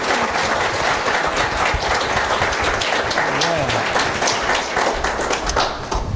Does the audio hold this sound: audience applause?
yes